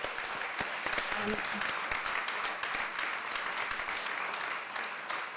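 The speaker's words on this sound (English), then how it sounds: "If we give our panel a round of applause" An audience applauds a panel at a talk on literacy, steady scattered clapping at moderate distance and fairly faint, lasting throughout with a brief voice briefly heard beneath.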